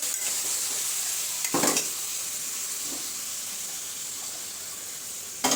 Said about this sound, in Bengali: এই চুলায় মাছটা ভুনা করে নেই।